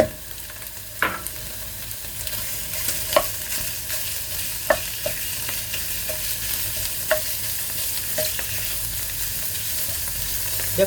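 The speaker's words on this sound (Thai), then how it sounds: "ใส่หมูสับใส่หมูสับลงไป" Minced pork stir-frying in a pan, with a steady sizzle under repeated sharp scrapes and clacks of a spatula at irregular intervals, no talking.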